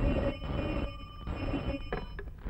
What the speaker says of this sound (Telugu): ఒక్క నిమిషం సార్ ప్రసాదం గారు మీకు ఫోన్